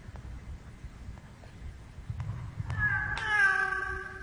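A cat meows in a horror-style video game, a rising tonal meow near the end over low background noise and faint clicks.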